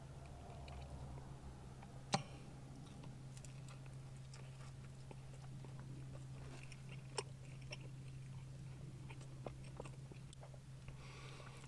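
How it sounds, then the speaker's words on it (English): Quiet, close chewing of pizza and calzone with soft crunches and a few sharp clicks over a low steady hum, no speech. "I do a bit of chewing noises"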